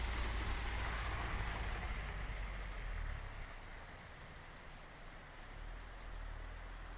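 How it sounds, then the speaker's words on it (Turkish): Steady rain falls outdoors beside rural houses in late May, a continuous close hiss of drops on surfaces that eases slightly partway through, with a low rumble underneath and no voices. "O da yağmur yağıyor."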